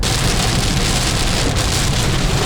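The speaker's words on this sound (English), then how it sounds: "This is probably the first really heavy rain that we've had since we've been in India." Heavy rain pouring down during a day of travel in India, a loud, dense, unbroken hiss of drops drumming on surfaces, close and constant with no voices.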